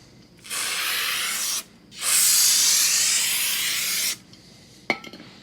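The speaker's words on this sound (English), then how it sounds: "spray it on the rag, wipe it off" Brake parts cleaner sprays from an aerosol can onto a rag in two loud, steady hissing bursts, a short one and then a longer one, followed by a sharp click, close up with no talking.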